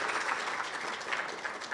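Applause for graduates at an audiology class oath-taking ceremony, steady, moderately quiet clapping from a group, continuous and even throughout with no voices over it.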